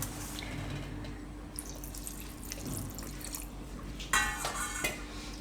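Water poured into a mixer jar of corn kernels, a soft running trickle that turns into a brief louder splash near the end, close by with no talking.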